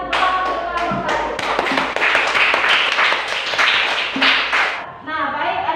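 Classroom applause for a student group, a dense patter of many hands clapping fairly loudly for about five seconds, with children's voices mixed in, then fading out.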